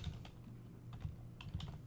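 Typing out a group name on a computer keyboard, with soft, uneven key taps spread across the stretch over a steady low hum, fairly quiet and with no talk.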